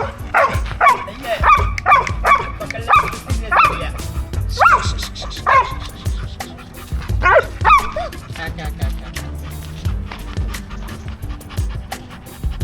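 A dog named Charlie barks in sharp, close bursts with yips and panting, the barks coming in clustered runs separated by quieter breathing and low background noise.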